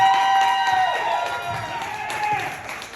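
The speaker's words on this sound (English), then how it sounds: "Let's give him a good big round of applause." An audience at a Books and Brew comedy night greets comedian Matthew Hovey with applause and cheering, a full wash of clapping that thins slightly midway and swells again, with a voice over it.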